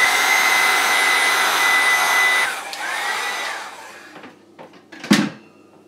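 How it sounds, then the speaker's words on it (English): A heat gun blows hot air on glue while building a planar speaker, a loud steady whirring roar that cuts off partway through, followed by faint clicks and a sharp knock near the end. "I use a heat gun because I'm not like waiting."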